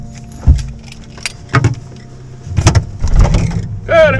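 Keys jangle as they are pulled from a parked car's ignition, several metallic rattling bursts up close amid cabin shuffling and clunks, with a brief voice at the end.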